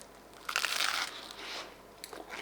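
A close, crisp crunch of someone biting into an air-fried sandwich, with a loud first bite and then softer crackling chews.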